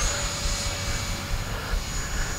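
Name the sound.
Freewing A-6 Intruder RC jet plane flying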